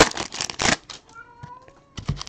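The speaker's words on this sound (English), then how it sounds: "You hear my little kitty down there making his presence known." A drawn-out cat meow rises and falls between bursts of rustling and shuffling noise, fairly close.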